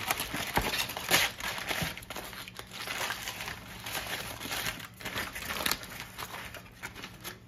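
Foil being peeled off a rack of smoked ribs, heard as close, continuous crinkling and crackling with a few sharper rustles throughout, with no talk.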